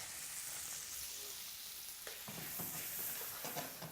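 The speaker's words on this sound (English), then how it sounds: "Now sizzling away." Prawns and courgettes sizzling in a hot pan, a close and constant crackle with occasional stirring clatter toward the end.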